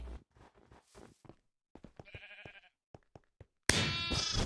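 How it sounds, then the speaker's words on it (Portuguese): Sheep bleats in a block-building video game: a string of short, clipped bleats and game blips, then a loud sustained burst of sound at the end. "Peguei duas ovelhas"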